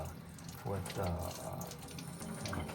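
Water runs from a faucet into a funnel while making tie dye, a steady splashing flow with a brief talking voice over it.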